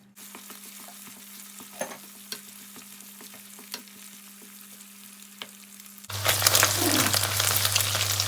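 Egg dropped into a hot pan with garlic, a quiet stretch of faint stirring and scraping giving way to a loud, steady sizzle of frying that fills the rest of the moment.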